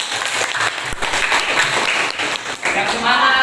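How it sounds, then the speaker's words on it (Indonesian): Students clapping in a classroom during a civics lesson, a dense, steady patter of hands held for several seconds, with some voices mixed in underneath. "Tepuk tangan dong buat"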